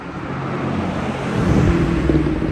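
A combustion-engine car passes along a calm Munich city street, its broadband road and engine roar swelling steadily louder over a couple of seconds, with no voices.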